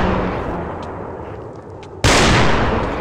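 A single sniper rifle gunshot in a video game, a sudden loud blast that cuts in partway through and rings out over steady background noise.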